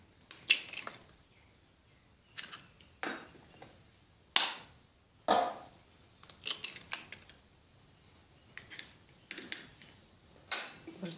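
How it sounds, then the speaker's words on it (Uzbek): Two eggs are cracked into a separate bowl while making potato pirozhki dough: sparse, quiet sharp taps and clicks against the bowl, separated by near silence. "Endi alohida idishga 2 ta tuxum chaqamiz."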